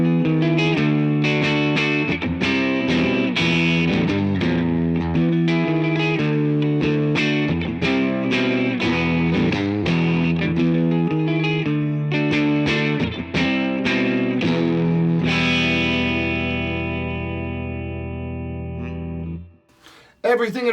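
A PRS McCarty 594 electric guitar with a clean tone runs through a Crazy Tube Circuits Venus pedal and a 2-Rock Classic Reverb amp, playing rhythmic chords and picked notes loud and alone, ending on a long ringing chord that slowly fades.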